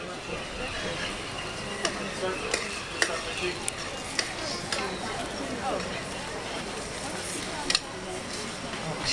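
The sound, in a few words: food being stirred in a hot pan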